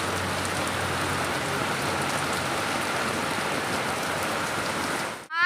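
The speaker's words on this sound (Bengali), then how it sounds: "বাইরে প্রচণ্ড বৃষ্টি পড়ছে প্রচণ্ড জোরে জোরে" Heavy rain pours down outdoors in a dense, loud, unbroken hiss that cuts off abruptly at the end.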